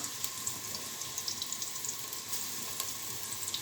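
Onions frying in hot oil in a pot for biryani, a close, steady hissing sizzle with small crackling pops scattered throughout, no voices.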